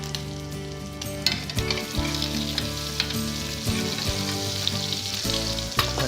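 Crushed garlic frying in butter and oil for a fennel and shrimp pasta sauce, a loud continuous sizzle with occasional clinks and stirring knocks up close, no voices.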